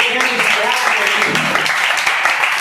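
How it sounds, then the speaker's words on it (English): A room of students applauding at an English class awards ceremony, dense steady clapping mixed with voices and talk throughout. "So there should be clapping for this."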